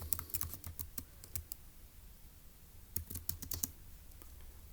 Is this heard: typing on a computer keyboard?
yes